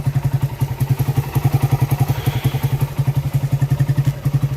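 A carbureted Suzuki Rider 150 motorcycle engine idles close by with a steady, rapid low thumping pulse and mechanical clatter, running alone throughout.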